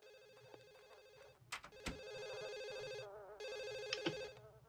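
A telephone rings in The Sims video game, with electronic ring bursts repeating clearly, separated by short pauses and a few clicks, and nobody speaking.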